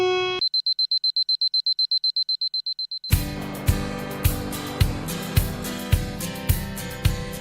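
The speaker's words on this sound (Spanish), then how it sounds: "tenemos alarmas cada 4 o 5 segundos" Control room alarms at the Jack Daniel's distillery: a rapid train of high electronic beeps for a few seconds, followed by a steady repeating chime pulsing about every half second, loud and close.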